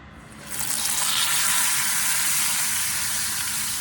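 Olive oil hitting a smoking-hot pan while a pot roast is being made: a bright, steady sizzle swells up after a quiet moment and holds loud and close.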